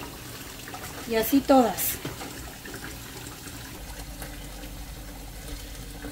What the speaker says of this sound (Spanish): Ahora estoy echando agua fría